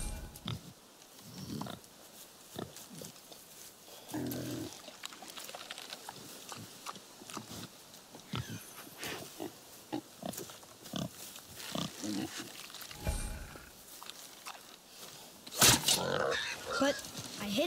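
A wild boar in God of War grunts and snorts in repeated rough bursts, fairly close, mixed with spoken dialogue and occasional sharp action sounds.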